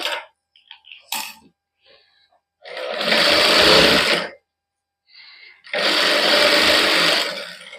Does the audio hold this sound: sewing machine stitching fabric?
yes